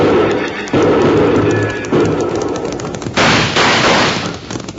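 Loud rapid bursts of rifle and machine-gun fire from a 1952 Wild Bill Hickok radio western drama, heard in several rattling volleys with brief pauses, with a narrow, old-broadcast tone.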